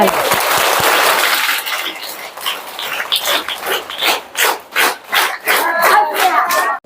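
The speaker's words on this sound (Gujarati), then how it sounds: "જોરદાર તાળીઓ" Applause at a school science quiz swells loudly at first, then breaks into scattered rhythmic clapping bursts from a group, with some voices mixed in.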